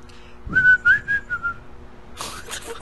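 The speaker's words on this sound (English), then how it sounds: "I thought it was like a whistle saying it was over time" Short whistle used as a signal that time is up, a single close, wavering tone lasting about a second, followed by a brief rustle.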